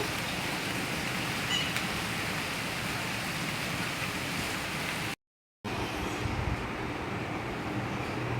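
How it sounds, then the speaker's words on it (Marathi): A dense, steady hiss of light drizzle falls without pause, broken by a brief moment of silence before continuing. "मस्त रिमझिम पाऊस पडत आहे"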